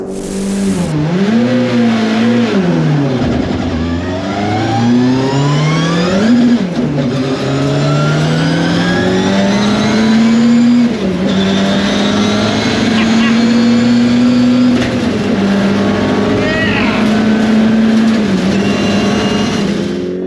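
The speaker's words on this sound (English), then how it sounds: "It is a genuine race car." A Ford Sierra RS500 Cosworth race car engine roars loud and close, revs climbing and falling in long sweeping pulls with a raspy, harmonic-rich exhaust note. Voices speak over parts of it.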